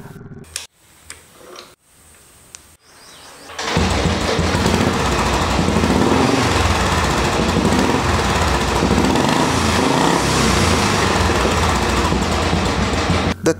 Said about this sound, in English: The thump that you get from the old bullets is incredible.